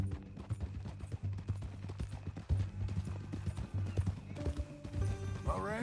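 Horse hooves clip-clop steadily in Red Dead Redemption 2, a rhythmic series of close, moderately loud steps under background music and sound effects.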